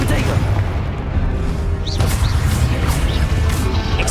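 Confringo spell blasts in the video game Hogwarts Legacy, several sharp crashing explosions going off in quick succession over a dense, rumbling background, with spoken incantations mixed in.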